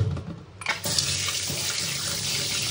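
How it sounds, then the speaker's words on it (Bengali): Tap water runs steadily into a sink while fish are washed, a close continuous splashing gush that starts after a brief pause and continues to the end. "চলো মাছগুলো ধুয়ে নিই"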